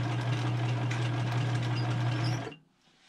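A Kenmore 158.1785 sewing machine running steadily on a zigzag stitch, a loud, close, continuous mechanical hum and clatter for over two seconds before cutting off abruptly into near silence.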